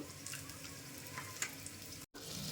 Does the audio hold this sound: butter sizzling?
yes